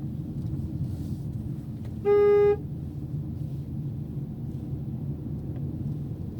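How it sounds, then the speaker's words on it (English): A single short car horn honk sounds clearly over a steady low engine rumble, then the rumble continues alone. "I honked my horn so he'd run back"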